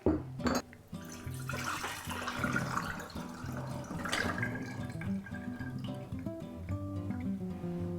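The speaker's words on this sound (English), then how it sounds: "add the orange blossom water to the lemonade and pour everything in a carafe" Lemonade with orange blossom water pours steadily into a carafe over a background of music, a continuous gurgling splash throughout.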